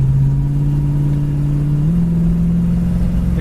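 1965 Ford Mustang Fastback engine droning loudly from inside the car, its pitch stepping up as the automatic transmission kicks down, then holding a steady higher revving tone.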